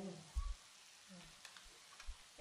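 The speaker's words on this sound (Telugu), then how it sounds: "ఇది ఫ్రై కాబట్టి మనం ఎప్పుడూ కలుపుతూనే ఉండాలి." Potatoes with chili powder fry quietly in a pan, a soft sizzle broken by a few low scraping stirs of the spoon.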